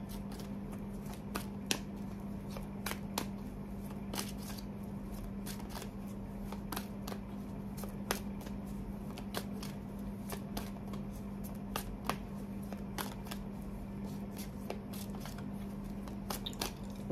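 Tarot cards being shuffled and laid out, as soft, quiet, irregular flicks and taps of card stock that continue steadily over a low constant hum.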